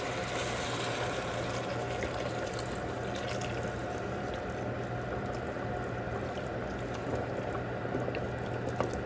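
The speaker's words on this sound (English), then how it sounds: "Okay, now I'm putting the water in" Water pours steadily into a cooking pot holding a chuck roast, a constant rushing, gurgling flow that stays even in level throughout.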